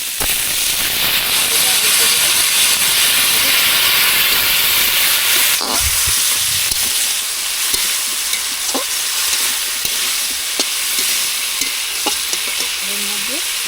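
Water poured into a hot pan of spicy silver carp fish curry in a Bengali kitchen, giving a loud, steady sizzle and hiss that continues throughout with occasional clinks and scrapes.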